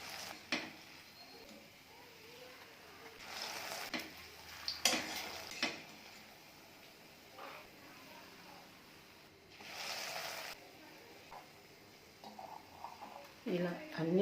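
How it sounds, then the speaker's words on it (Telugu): Bread pieces frying in ghee in a pan, with soft sizzling and occasional stirring and utensil clinks, heard close under a voice. "ఒక్కొక్క బ్రెడ్ ముక్కని నెయ్యిలో వేసుకుని ఫ్రై చేసుకోవాలి"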